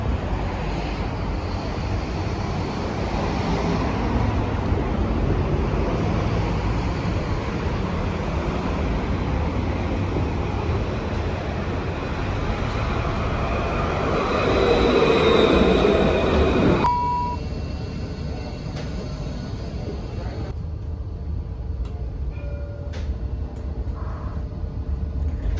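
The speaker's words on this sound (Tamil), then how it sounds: "ஓ, என் ட்ராம் வந்துருச்சு." Tram in Adelaide rumbling up to a stop, a steady loud mechanical roar that swells, then cuts off abruptly, leaving quieter ambience with faint high beeps and clicks; no talking.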